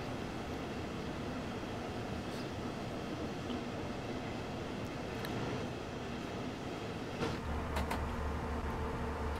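BR 110 electric locomotive in S-Bahn livery pulling a train in Train Sim World 4, a steady rolling rumble and hum of wheels on track, with a few clicks near the end.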